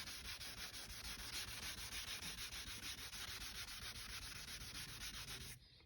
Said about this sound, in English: So all you do is just scrub it.